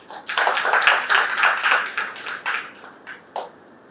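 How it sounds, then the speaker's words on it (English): A small audience at a youth debate on generative AI gives a brief round of applause, light rhythmic clapping that swells and then tapers off into a few scattered claps. "Please give him a warm round of applause."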